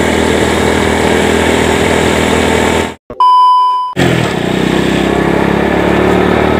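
A Honda Astra Grand motorcycle engine drones loudly and continuously while riding at night through a town square area, broken by a sudden second-long dropout near the middle before the engine noise resumes.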